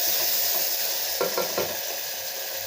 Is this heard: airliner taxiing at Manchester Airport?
no